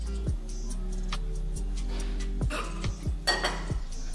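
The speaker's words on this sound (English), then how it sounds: "So I'm just gonna wash the pan." A frying pan being washed in a kitchen sink on a Saturday morning, with several sharp clinks and knocks of metal against the basin, spaced irregularly over a steady low running-water hum.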